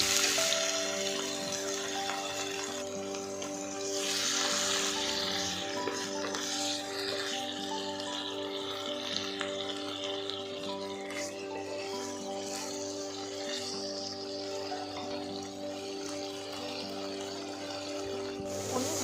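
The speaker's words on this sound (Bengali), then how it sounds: "ভালোভাবে গরম হয়ে গেছে, এরপর আমি পনিরগুলোকে ফ্রাই করে নেব।" Paneer cubes sizzle in hot oil in a kadai with a steady, dense crackle that holds evenly for the whole stretch, moderately quiet, with a faint background hum.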